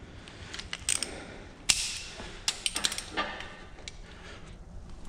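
A ratchet and socket work on bolts during the teardown of a supercharged small-block Ford 302 (5.0) engine, giving scattered sharp clicks and creaks at close range, fairly quiet, with no talking.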